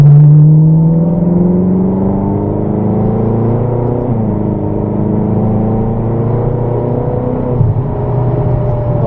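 A supercar at full throttle on the Rockingham circuit, its engine note rising steadily in a loud, close, continuous run of climbing harmonics, with a brief dip partway as the revs shift before building again.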